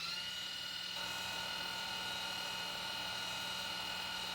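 RC MD500 helicopter with its rotor spinning during a throttle cut test, a steady high whine and buzzing hum that holds constant throughout, fairly faint with no talking.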